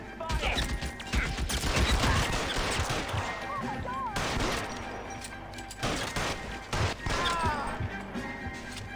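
Shots and crashing impacts from a gunfight in the video game L.A. Noire on Nintendo Switch, several sharp bangs scattered across a busy mix of game effects and shouted voices.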